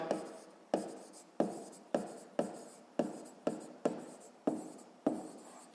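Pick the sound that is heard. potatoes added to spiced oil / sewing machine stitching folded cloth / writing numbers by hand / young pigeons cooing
writing numbers by hand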